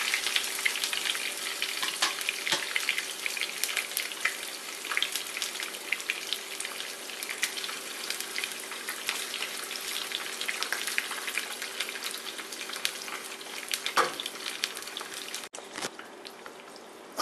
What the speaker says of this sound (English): After I add the chili peppers, I turn the heat back on so that they sizzle and they get nicely cooked